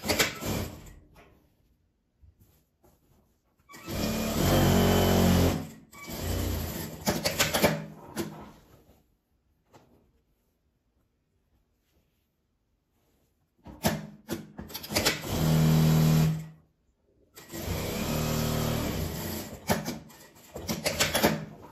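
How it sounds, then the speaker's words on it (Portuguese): Sewing machine stitching the lining fabric of a reversible sack-style bag, heard in two loud close bursts of rapid mechanical running separated by quiet pauses, with no talking. "E aqui eu vou costurar um pouco"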